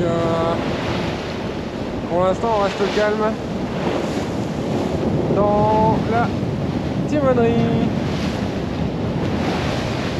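Waves rush and wash against a heeling sailboat under a steady wind, spraying the boat, while a voice speaks intermittently over the sea noise.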